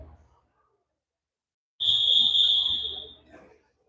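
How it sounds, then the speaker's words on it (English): A sustained whistle blast at an archery tournament signals archers to go score and pull their arrows, loud and steady for about a second and a half after a quiet stretch, with faint crowd murmur underneath. "that's the whistle to go score and pull your arrows"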